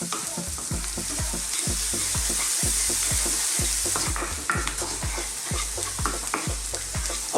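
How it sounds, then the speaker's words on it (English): Fish steak curry cooking over medium heat, stirred constantly: a rhythmic run of spoon scrapes and knocks against the pan, evenly spaced, over a steady sizzle, close and clear with no talking. "Let's now cook this, keep stirring it all the time."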